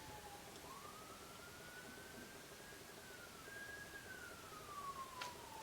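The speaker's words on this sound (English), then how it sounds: "Definitely not with those sirens in the background." A police siren wails faintly in the distance, one slow rising and falling tone drifting beneath a quiet room's background hiss.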